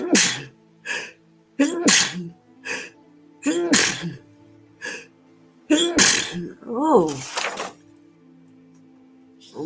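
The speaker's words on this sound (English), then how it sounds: "I sneezed my poster down." Several sharp, close sneezes and short bursts of breath from one person indoors, with brief pauses between them and a little speech mixed in.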